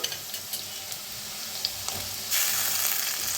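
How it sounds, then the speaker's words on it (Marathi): Onion, curry leaves and green chillies sizzle steadily while roasting in hot oil, a continuous broadband hiss with light clinks early on that grows louder and denser over the last second, with no talk. "आता ह्याच्यात टाकूया कांदा, कढीपत्ता आणि हिरव्या मिरच्या। त्याला भी भाजून घेऊया।"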